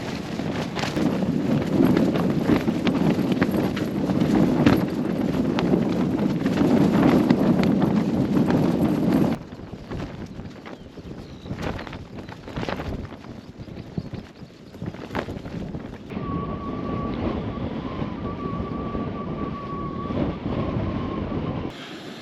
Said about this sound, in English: The wind's calming down now,